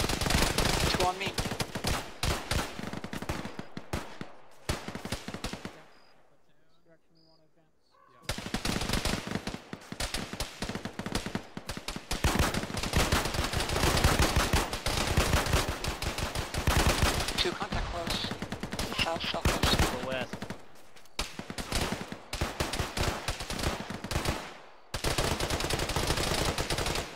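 Rapid bursts of automatic gunfire and single shots crackle nearly nonstop through a military video game firefight, loud and close, with one brief lull and occasional voices on the radio.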